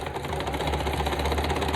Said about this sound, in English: My sewing machine's so old